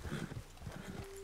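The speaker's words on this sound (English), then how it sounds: "Best leave the horses back a bit." Horse hooves clip-clop in a quick, even rhythm on a road in Red Dead Redemption 2, close and clear, with a short tonal sound near the end.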